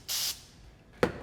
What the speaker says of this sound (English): I'm gonna spray out each passageway with some carb cleaner